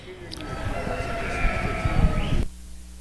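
Ewe lambs of Other Wool Breeds bleat at a breeding sheep show, a steady wavering chorus from several animals under a public-address announcer's voice, cutting off abruptly near the end.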